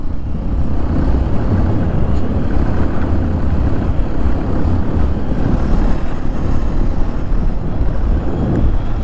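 A vehicle drives off-road with a steady, loud rumble of engine and rough ground noise, heavy wind buffeting the microphone throughout and no talking.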